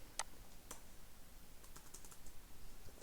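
A few scattered keystrokes tap on a computer keyboard while code is written, quiet, sparse clicks in a near-silent room.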